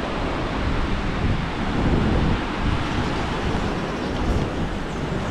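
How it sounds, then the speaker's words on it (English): Broad, rushing roar of Indian Ocean surf on Diani Beach, Kenya, with steady wind noise, waves swelling and washing continuously without any clear breaks. "offers a tranquil yet dynamic display of ocean waves"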